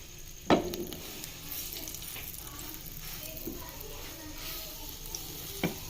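A taco fries in butter or ghee, a soft steady sizzle close by, punctuated by a couple of sharp clacks and light stirring sounds, with no talk.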